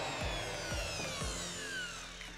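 A Dongcheng DMR02 handheld wood router runs with a steady high whine, its pitch drifting slightly, while a few low thumps sound near the start, all close and alone without talk.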